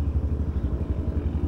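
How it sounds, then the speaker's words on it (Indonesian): A locally modified motorcycle rides down a hill road in the Dieng Plateau village of Surengede, its engine a steady low, throbbing rumble at moderate distance with no voices. "Jadi motor di sini tuh memang didesain dan dimodifikasi oleh warga biar kuat menahan beban, tapi juga kuat untuk buat naik-naik"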